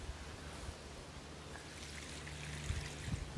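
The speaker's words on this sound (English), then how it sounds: "I'll give this vine that I got from my brother John last year a little bit of water" Water trickles and pours softly onto a dry garden vine, a faint steady stream with a few low bumps near the end, no voices.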